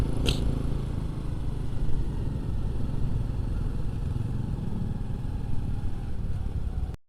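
Motorcycles labor up a steep mountain road through Kamojang on the Garut–Bandung route, their engines droning steadily and fairly loud for the whole stretch, with a brief rattle near the start.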